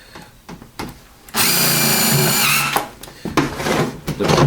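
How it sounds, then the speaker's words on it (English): Power drill driving screws to join sections of solar tube skylight pipe, a steady loud whirring burst of about one and a half seconds between shorter clicks and handling noises. "we're going to screw the sections together so it'll hold."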